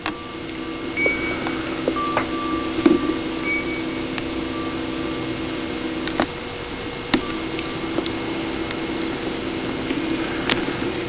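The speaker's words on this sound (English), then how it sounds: "And it's starting to change over to rain now." Rain falls outdoors as snow changes over to rain, a steady soft hiss with scattered sharper drips and taps on nearby surfaces, continuous and close.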